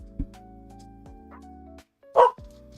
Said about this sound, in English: Yep, that's my dog.